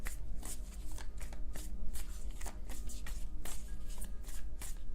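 Tarot cards being shuffled by hand, a close, steady run of crisp riffling flutters and soft slaps repeating throughout with no talk.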